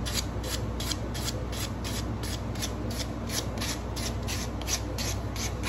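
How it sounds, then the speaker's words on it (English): The edge of a sable shofar mouthpiece is smoothed by hand with rapid, regular back-and-forth rubbing strokes, a close scratchy rasp over a steady low hum. "Let me just smoothen off the edge of the mouthpiece."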